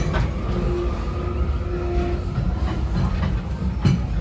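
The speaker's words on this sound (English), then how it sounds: "As we arrive into the station, please remain fully seated until the train comes to a full and complete stop" A Walt Disney World Railroad train at Magic Kingdom rumbles and rattles steadily along the tracks arriving into a station, with a low continuous roar and faint clicking wheels, no voices.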